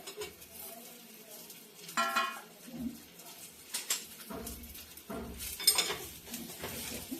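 Mango pieces are stirred in a hot pan with oil and chilli for gulamba, a mix of scraping spoon strokes and light sizzling, close and irregular, with a bird calling faintly in the background.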